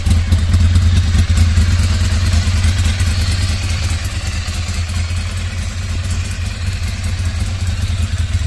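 Ducati Monster 696 motorcycle engine idling loud and close, a steady deep throbbing rumble with mechanical clatter throughout.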